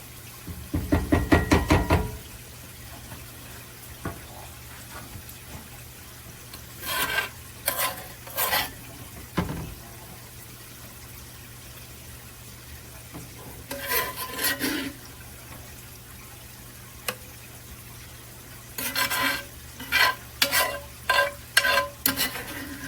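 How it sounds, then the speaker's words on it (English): Melted butter with lemon and onion is poured over steak and potatoes frying in one pot, producing repeated short bursts of sizzling with stirring scrapes between them and no talk. "I'm going to take this and I'm going to pour on our meat and our potatoes"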